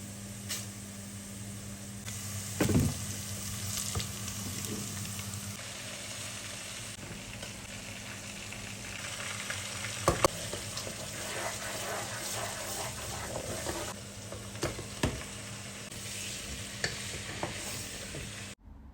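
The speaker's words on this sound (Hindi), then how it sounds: "ये सब डालने के बाद इसमें चिकन डलेगी और चिकन को अच्छे तरीके से भूनूँगी मैं।" Chicken being fried in a pan with whole spices, ginger, garlic and chopped green chillies, a steady close sizzle with stirring scrapes and a few louder clanks throughout.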